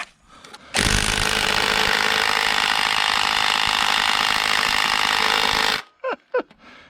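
An impact wrench hammers loudly and continuously for about five seconds on 13mm factory starter bolts during a transmission swap, ending abruptly, followed by a few short squeaks and knocks.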